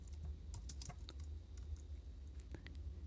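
Quiet, uneven keystrokes on a computer keyboard while code is typed, scattered taps over a steady low hum, near but faint.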